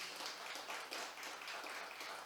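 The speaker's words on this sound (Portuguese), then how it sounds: "Dá uma salva de palmas para Jesus." Church congregation clapping continuously in a steady wash of applause, faint and distant-sounding, with no clear voices over it.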